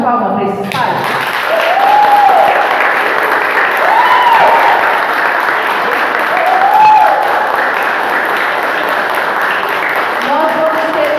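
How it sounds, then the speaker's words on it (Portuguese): A church congregation at a Father's Day service applauds the fathers, with a sustained wash of clapping running throughout while a sustained, rising-and-falling tone recurs over it. "Vamos dar uma salva de palmas para esses pais?"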